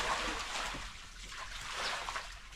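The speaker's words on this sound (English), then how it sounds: "You can actually see the way the water flows." Water trickles and sloshes across the floor of a modern cow shed as it is washed down, a close, continuous wet rush that swells and eases without speech.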